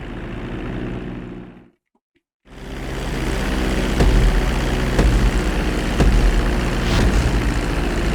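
A GTA 5 flight school plane engine drones loud and steady during a landing approach, cutting out to silence briefly before the roar returns with a few thumps.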